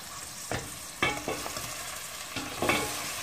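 Leeks tipped into tomato paste frying in a pan, giving a few sharp scraping, stirring clatters over a steady background sizzle, close and fairly quiet, with no talking.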